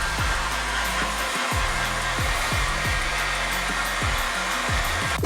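Hair dryer blowing hair during a down perm styling session, a loud, continuous whirring airflow close to the mic with a steady motor whine, no talking.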